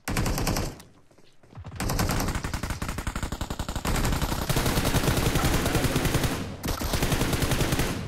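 Rapid gunfire in the mobile battle game BGMI, loud and close, with continuous bursts of shots in a fast rhythm, a brief pause near the start and another short gap near the end.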